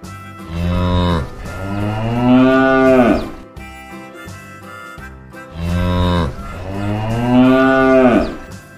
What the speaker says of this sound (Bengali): গ গয়ে গরু বাছুর দাঁড়িয়ে আছে।